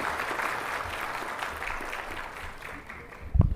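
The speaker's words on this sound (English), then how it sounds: "Please give a warm round of applause to us." Applause at a farewell function honouring a Supreme Court judge: a broad, steady patter of many hands clapping throughout, moderately near, easing slightly toward the end before a brief loud thump.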